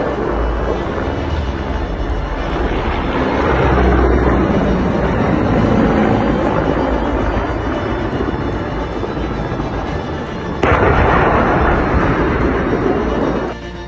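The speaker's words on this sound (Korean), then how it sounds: "지금 보시는 장면은 헬기 격추 장면인데 세인트 스팅어가 이번에도 우크라이나를 지키고 있습니다." Heavy rumbling roar in combat footage from Ukraine as a helicopter is downed by a Stinger missile, a dense, sustained loud wash with a sudden louder burst near the end and no talk.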